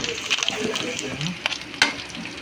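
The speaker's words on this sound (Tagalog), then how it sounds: "Dito na rin po tayo magigisa." Onion and garlic sauté in a hot pan for puchero, a close, continuous sizzle with quick scraping stirs and small clinks throughout.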